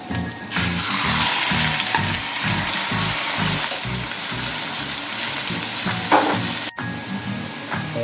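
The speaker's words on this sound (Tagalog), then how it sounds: "Ihulog na natin itong pork meat." Pork meat frying loudly in a pan, a steady dense sizzle close up with rhythmic stirring scrapes running throughout.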